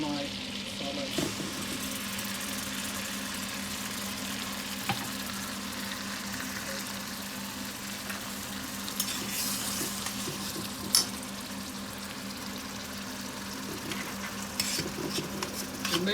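Onion, tomato and ginger-garlic masala sizzling in a pan while being stirred, a steady faint frying hiss with occasional scrapes of the spoon, no voices.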